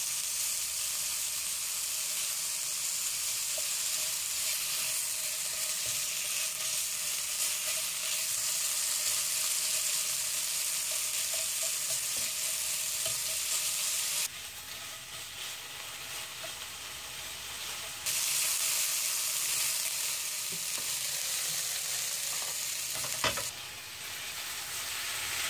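Pork belly fries in a pan for stir-fry udon with cabbage, giving a bright, continuous close sizzle that dips briefly and returns, with a sharp clack of the pan or utensil near the end and no talking.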